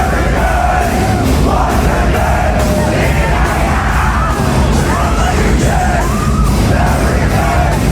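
A loud concert crowd at a live show yells and roars steadily throughout, with scattered whoops and shouts over a dense, continuous wash of noise.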